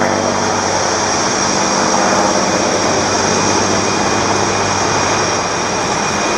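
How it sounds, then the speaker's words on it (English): A P-51 Mustang's propeller engine roars loud and sustained during an aerobatic airshow routine, a continuous throaty drone that swells slightly as it climbs toward the vertical. "Listen to the Mustang."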